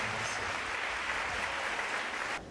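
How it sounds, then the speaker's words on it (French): Applause from a church congregation during a worship service, a steady dense clapping that fills the room without a break and then cuts off abruptly at the end. "Merci, nous allons acclamer ça."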